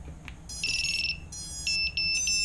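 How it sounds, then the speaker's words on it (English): An electronic beeper on a ZMR250 drone build keeps sounding in shrill, rapid warning chirps, loud and close, repeating in short bursts over quiet background. "this damn beeper keeps going"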